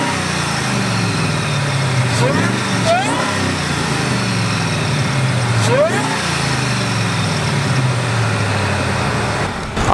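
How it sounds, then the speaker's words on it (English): A 17-year-old supercharged SVT Ford Lightning pickup runs nearby, a deep steady engine and exhaust rumble with two sharp revs and a rising supercharger whine, while someone talks over it. "Let's go ahead and have a listen to the exhaust, the engine"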